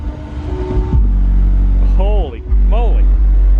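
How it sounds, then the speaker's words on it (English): Loud car engine revving just outside a building, deep rumbling bursts swelling and dropping, with a person speaking briefly over the din. "George is out there messing around with his car."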